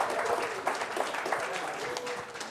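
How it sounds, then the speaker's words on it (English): An audience at a high school event claps in a dense, steady burst of applause, with a few faint voices mixed into the sound. "Why do I feel like teachers only clapped and no students?"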